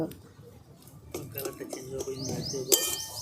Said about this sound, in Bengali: এইভাবে কিছুক্ষণ নেড়ে নিচ্ছি এবার কালারটা চেঞ্জ না হওয়া পর্যন্ত আমি এইভাবেই নেড়ে যাব